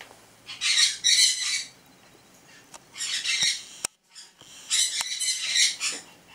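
A mixed Mexican parakeet chick, still covered in down, gives harsh raspy squawks in three close, loud bursts separated by short pauses.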